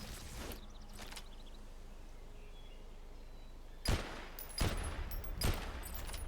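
Suppressed gunshots hitting training dummies in a Metal Gear game, one pair of quick shots at the start and then three more spaced shots near the end, each a sharp burst over quiet ambience.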